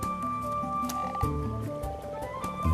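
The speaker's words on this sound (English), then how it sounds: "And the common frogs feel spring fever too." Common frogs croak in rapid low pulsing trains during their spring spawning migration in shallow water, the calls sitting under a steady bed of music for the whole stretch.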